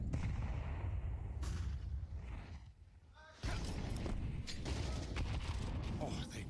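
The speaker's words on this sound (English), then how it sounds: "Chewie's got a couple of nades here for the half wall" Grenades are thrown and burst during a pro Counter-Strike match, amid rattling gunfire and game clatter. A sharp blast cuts in loudly after a brief lull, with voices under the action.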